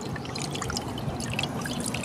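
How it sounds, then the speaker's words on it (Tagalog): Distilled drinking water is poured over freshly caught river fish to wash them, a continuous close splashing and trickling with scattered drips. "Hugasan muna natin ng distilled drinking water."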